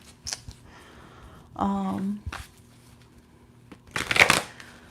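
Tarot deck being shuffled, a short riffling burst followed by a louder rustle of cards near the end, close up and mostly free of talk.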